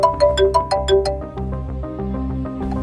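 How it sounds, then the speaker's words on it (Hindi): A phone rings with a melodic ringtone, a bright sequence of chiming notes over a sustained musical bed, loud and close, with no talking. "बॉस का फोन।"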